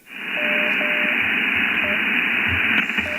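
A CW Morse signal on a radio receiver passed through a GNR-1 digital noise reduction unit: short and long tone beeps keyed over a steady band of processed hiss, fairly quiet and even.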